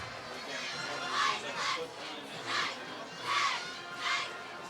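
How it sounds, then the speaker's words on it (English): A high school homecoming football crowd cheers for North Penn against Pennridge, a distant wash of many voices swelling in about four rolling surges over steady stadium murmur. "North Penn crowd showing a lot of energy for their football team on this drive"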